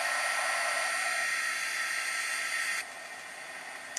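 A handheld dryer blowing on watercolor paint over a stamped card gives a steady close whooshing whir that drops to a lower, quieter hiss near the end, as if the setting changed or the dryer moved away.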